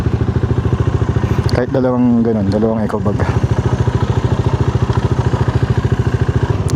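A motorcycle engine running close by with a steady rapid chugging pulse, loud throughout while a person speaks over it.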